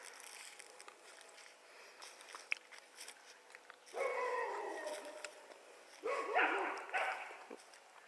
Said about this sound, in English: And of course their dogs are going to bark at me